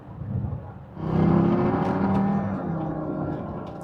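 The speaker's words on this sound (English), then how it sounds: "Exhaust sounds a little bit weird. I don't know if that's normal, but it sounds kind of loud." A 2009 Land Rover LR2 cruising in top gear around 1800 RPM, its somewhat loud exhaust droning steadily inside the cabin, swelling after the first second and holding an even, slightly rough hum.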